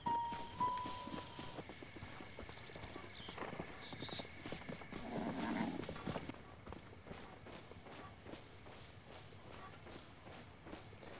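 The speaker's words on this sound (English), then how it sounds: "Okay, we're gonna catch a horse." Steady clip-clop of horse hooves at a trot in the video game The Legend of Zelda: Breath of the Wild, rhythmic and fairly close, with a brief whinny and faint background tones.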